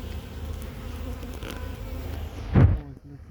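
Honeybee colony buzzing during an early-April hive inspection, a steady close hum of many bees with a brief louder thump near the end as frames are handled, no speech.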